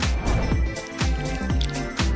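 Cartoonish water drips from a Sprunki paper gamebook adventure, a handful of distinct plinking drops spaced roughly half a second apart over a soft background hum, close and fairly loud.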